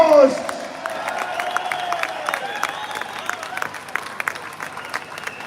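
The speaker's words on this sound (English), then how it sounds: "Give him a massive round of applause." A large open-air crowd at the Unite The Kingdom rally in Britain applauds and cheers Carl Benjamin, with sustained distant clapping, scattered whoops and whistles, after a brief announcer's voice opens the clip.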